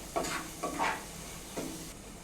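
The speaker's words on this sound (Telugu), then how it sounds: "వీటిని కొంచెం ఫ్రై చేసుకోవాలి" Ingredients for egg biryani frying in a pan, short bursts of sizzle and stirring scrapes over a low steady hiss, close and fairly quiet.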